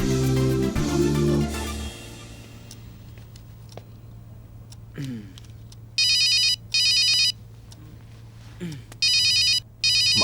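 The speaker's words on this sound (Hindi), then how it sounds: "माँ का फोन आ रहा है।" After a brief musical swell fades, a faint background hum runs with scattered small clicks, then an electronic phone ringtone trills in two loud bursts.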